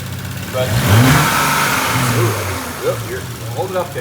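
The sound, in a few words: Porsche/Audi EA839 3.0T engine revving to about 3,000 RPM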